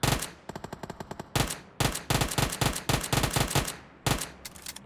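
Rapid automatic gunfire from PUBG Mobile: repeated loud bursts of close shots in quick clusters, with short gaps between volleys and no talk.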